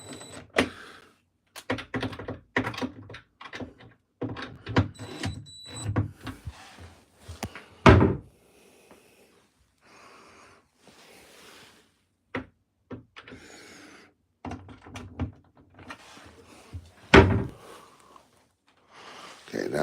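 A bathroom vanity cabinet door being adjusted and rehung, giving a series of close wooden knocks, clicks and two sharp slams of the door shutting, spread across the clip with quiet gaps between.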